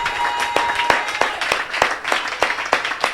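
A congregation claps in steady rhythmic applause to acclaim the Lord, sharp even claps repeating throughout at moderate loudness.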